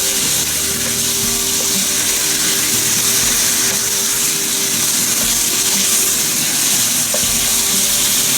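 Chicken sizzles loudly in a hot pan seasoned with salt and pepper for Guatemalan pollo a la crema, a constant close frying crackle and hiss throughout with no voices.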